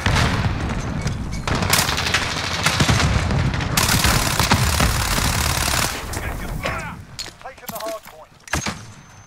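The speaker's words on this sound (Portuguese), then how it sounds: "já sabia que vinha lá uma granada" A grenade blast and heavy gunfire fill a Call of Duty: Modern Warfare (2019) Hardpoint match on PC, a dense, loud roar of bursts that fades to quieter shots as someone speaks near the end.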